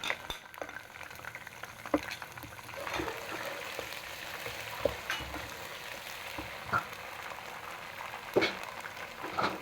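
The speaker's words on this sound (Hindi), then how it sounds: "साथ ही हम अदरक, लहसुन और सब्ज़ मिर्च का पेस्ट डाल देंगे। डाल के उसको फ्राई कर लेंगे।" Steady sizzling of ginger, garlic and green chili paste frying in a pan, with occasional stirring clinks and scrapes; no voices.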